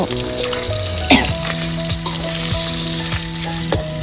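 Minced pork frying with shallots in a pan, a close, loud sizzle with clattering stirring scrapes and a sharp clank, while a steady background tone hums with shifting pitches; no one speaks.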